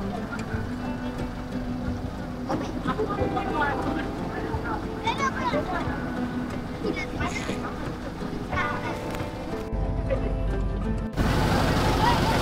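A vegetable-carrying trawler boat on the Buriganga River runs its engine steadily throughout, a continuous low rumble with water noise and busy river activity, while a person speaks over it; near the end the sound shifts to a louder, closer engine drone.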